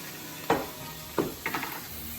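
Marbled raw beef hitting a hot Korean yakiniku tabletop grill, giving three short, sharp bursts of sizzling close by with quiet pauses between, no voices.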